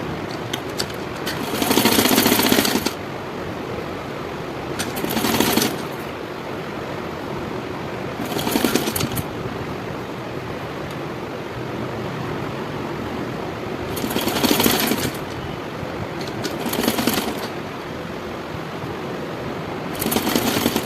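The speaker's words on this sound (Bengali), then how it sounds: "এর উপর দিয়ে আমি চাপ সেলাই দেব" Sewing machine top-stitching a katori blouse, running in six short bursts of a few seconds each, separated by quieter pauses with faint background hum.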